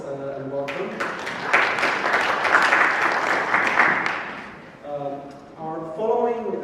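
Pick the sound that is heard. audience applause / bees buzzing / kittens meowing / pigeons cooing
audience applause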